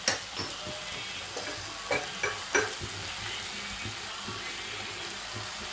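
Onions and cashews sizzle and fry in a pan, with a soft steady crackle broken by several sharp scraping clicks of a spoon stirring, close and moderately quiet, with no voices.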